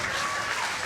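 Crowd at a bowling match clapping and cheering, a brief burst of dense applause with no clear speech on top.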